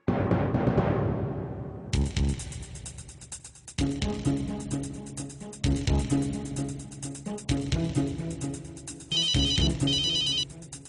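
A phone ringtone plays in repeated bursts, an electronic ring pattern with short pauses between, loud and close, after a brief noisy start.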